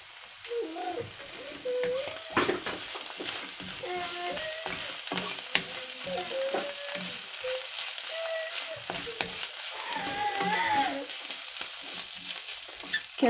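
Spices and onion fry in a pan, and a spoon scrapes and stirs through a steady sizzle as they are kept from sticking, with faint background noise throughout.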